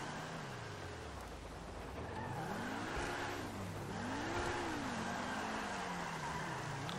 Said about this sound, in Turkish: Araba kendi kendine kayıyor arkadaşlar şu anda.